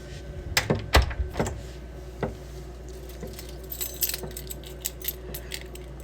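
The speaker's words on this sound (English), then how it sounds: "I'm not showing you guys my keys" Keys jangle loudly up close as someone enters an apartment, a burst of metallic rattling and clinks early on followed by softer scattered jingles and taps.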